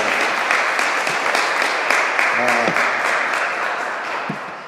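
A Korean church congregation in Paris applauds during an Easter Sunday service, sustained, fairly loud clapping from many people, with a brief sung or spoken tone rising faintly midway.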